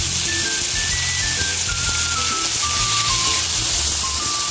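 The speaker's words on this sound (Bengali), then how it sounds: "আদা রসুনের কাঁচা গন্ধটা না যাওয়া অবধি কষিয়ে নিতে হবে" Ginger and garlic paste frying in a pan for a pomfret curry, a constant hissing sizzle spread across the whole stretch with soft background music and no speech.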